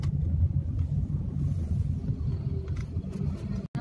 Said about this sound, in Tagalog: Namiss ko mag-drive guys.